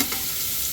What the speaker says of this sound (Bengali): এবার আমরা এবার আলু বেগুনগুলো ভেজে নেওয়া হচ্ছে